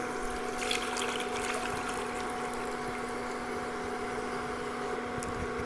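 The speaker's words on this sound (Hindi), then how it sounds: "अब ये खश के पानी को हम वापस" Khus-infused water poured back into a kadhai, a soft continuous trickle under a faint steady hum, with no voices.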